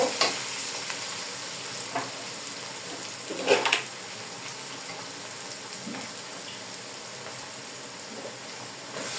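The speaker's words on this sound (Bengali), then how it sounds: "দিয়ে দিলাম আদা রসুনের পেস্ট। ভালো করে ভেজে নিব।" Ginger garlic paste frying in a pan with onions, cinnamon, cloves and cardamom, giving a steady soft sizzle with a few louder stirring scrapes around the middle.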